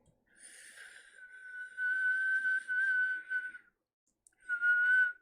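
A person whistles an imitation of bird noises, a long high wavering whistle followed by a pause and a shorter second whistle, close and clear.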